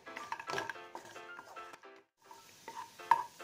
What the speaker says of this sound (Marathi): काजू आणि मनुके आपल्याला लाईट ब्राऊन कलरमध्ये परतून घ्यायचे आहेत.